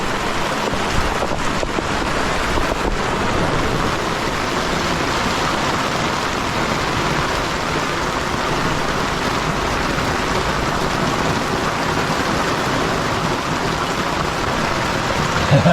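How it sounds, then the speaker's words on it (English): Rain and gusting wind sweep over a sailing boat at sea during a violent squall, a loud, continuous rushing roar with buffeting wind noise on the microphone and no voices. "There's a lot of rain over there."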